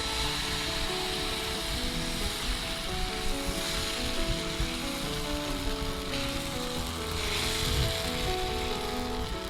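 Coconut dosa batter made without urad dal sizzles on a hot, lightly oiled tawa, a close, steady hiss and crackle that runs unbroken throughout, with a faint tonal hum behind it and no talking.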